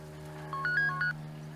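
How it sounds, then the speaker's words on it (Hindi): A short electronic ringtone plays a quick melody of bright beeping notes, fairly faint, over a steady low hum. "भाई बहन का फोन है"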